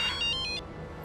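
A telephone rings in a Hindi TV drama household, a few quick electronic ring bursts in the first half, then quiet room tone.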